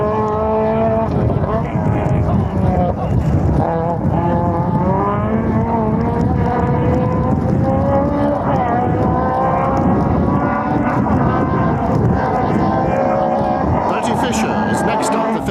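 BMW rally car engine with softer ProDrive-fitted suspension at the 1990 Donegal International Rally, revving loudly with rising and falling gear-change whines, heard steadily under continuous commentary.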